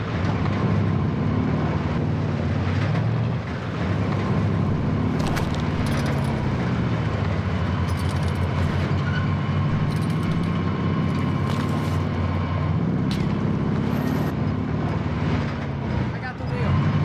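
A vehicle engine roars steadily as someone drives in the video game Warzone, a continuous loud motor drone with brief higher clatters and voices mixed in.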